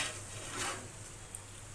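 Rice cooking in a pot on the stove is stirred, giving soft scraping strokes over a steady, low simmering hiss, fairly quiet and close, with no one speaking.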